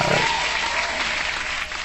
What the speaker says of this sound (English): hand clap to justice